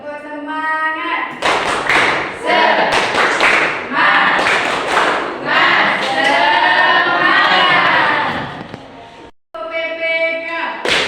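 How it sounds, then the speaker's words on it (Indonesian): A classroom of students performs a rhythmic spirit clap during a religious education lesson, loud patterned claps mixed with chanting voices over several seconds, with a brief pause near the end before clapping resumes. "Tepuk semangat."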